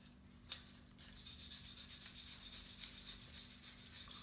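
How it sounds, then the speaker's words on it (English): A wire brush scrubs the threads of the wheel lugs on a BMW E36 325is race car, giving faint, steady, rhythmic rubbing strokes close to the listener. "I like to get a wire brush, clean out the lugs a little bit."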